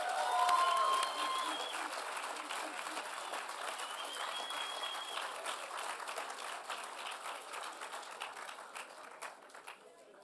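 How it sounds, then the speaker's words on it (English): Audience applause for awardees at a 2014 university commencement ceremony, a broad wash of many hands clapping that starts loud and slowly thins and fades, with some cheering and faint voices mixed in. "Let's give a round of applause for all of the PPC awardees."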